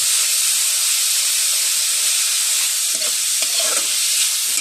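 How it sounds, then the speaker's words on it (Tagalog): Bottle gourd (upo) sautéing in a pan makes a loud, steady, close-up hiss of frying that carries on unbroken, with a few faint stirring clinks late on and no speech. "gisa lang din natin para pantay yung ano niya, para pantay yung luto niya"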